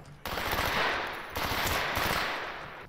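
FAMAS assault rifle fire in the STALKER video game: two loud, sustained automatic bursts, each lasting over a second, separated by a brief gap.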